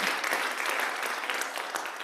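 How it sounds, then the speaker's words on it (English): A church congregation claps in celebration of a member's 94th birthday, a steady, dense round of applause filling the whole stretch without pause or speech. "You can clap."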